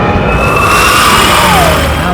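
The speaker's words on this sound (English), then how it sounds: "He started with a standard air raid siren, drove an electric motor against it to make it spin faster and harder." Custom Stuka dive siren built for Dunkirk from a standard air raid siren driven by an electric motor to spin faster, a loud sustained wailing tone that slowly bends downward over dense rumbling noise, with no talk.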